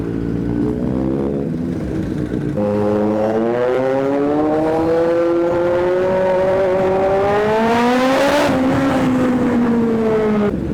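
Several superbikes riding toward Machilipatnam beach, their engines droning loud and close with rising and falling revs and a sharp surge near the end, with no talk.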